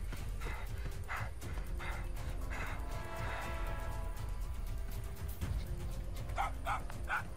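Dog barking in the Killer Klowns From Outer Space video game, a few sharp barks standing out over a dense, continuous game soundscape with clip-clop-like thuds and steady background noise.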